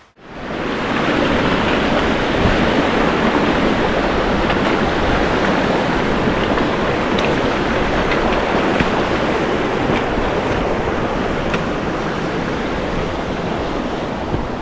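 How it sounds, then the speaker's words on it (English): A mountain river rushes through a Scottish glen below A' Ghlas-bheinn and Beinn Fhada in winter, a loud, steady, unbroken roar of flowing water close by with no voices. "This river can be in spate and can be quite hazardous to cross."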